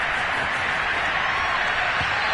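A stadium crowd roars steadily in a football video game ahead of a big third down, a continuous broad wash of cheering without clear breaks.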